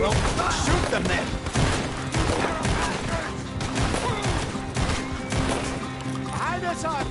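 Gunfire in Red Dead Redemption 2 during a shootout with men fleeing out the back and down an alley, dense loud shots and crashes running throughout, mixed with shouted talk.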